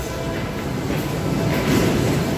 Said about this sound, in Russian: с двух сторон практически одномоментно одна за другой идут электрички